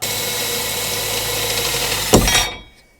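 A power drill's steady motorized whir runs continuously while drilling upward through holes in a Jeep Wrangler JK's overhead, then a short louder burst of grinding before it spins down and stops.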